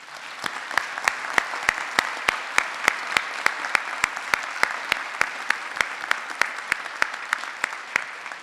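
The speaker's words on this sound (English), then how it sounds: "he deserves a round of applause from each of us" Town meeting audience in Milton applauding, a steady wash of many hands clapping with a sharp, evenly spaced ticking running through it, moderately loud and continuous for the whole stretch.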